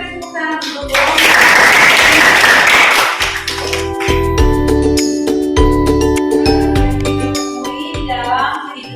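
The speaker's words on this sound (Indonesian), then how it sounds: "Sekali lagi kita beri tepuk tangan" A high school chemistry classroom bursts into brief loud applause from students, followed by tinkling, chiming tones and taps with a voice speaking around them.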